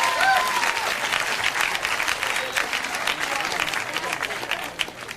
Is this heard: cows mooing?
no